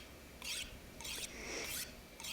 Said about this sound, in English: I need to sharpen this stuff up